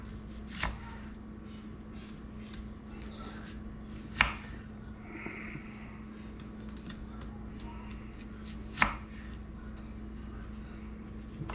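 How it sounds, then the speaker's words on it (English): Knife slicing through onions on a cutting board, cut thin for dehydrating into onion powder, with three sharp isolated chops spaced a few seconds apart over a low steady background hum. "So I just slice them up like this."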